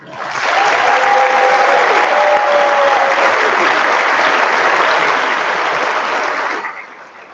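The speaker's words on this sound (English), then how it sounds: "Let's give them a round of applause." A large crowd applauds loudly and steadily for several seconds at a nursing graduates' pinning ceremony, then the clapping fades out.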